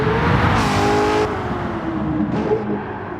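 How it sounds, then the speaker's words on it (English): A Stielow Engineering Red Devil Camaro race car on a circuit, its loud engine droning close up, rising through the revs, briefly hitting the rev limiter and upshifting twice in quick succession. "upshifting, hitting the rev limiter a little bit"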